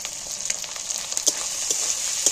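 Green chillies and capsicum frying in a pan, a close, constant hiss of hot oil with small crackles and pops scattered throughout.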